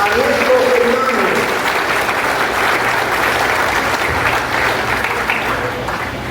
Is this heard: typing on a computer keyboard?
no